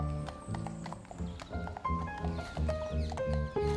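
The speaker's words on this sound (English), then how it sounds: "We ensure safety in the park by patrolling the paths with our horses." Carabinieri mounted police horses walking along park paths in Villa Borghese, Rome, with steady hooves clip-clopping close by and a horse neighing, with faint background voices.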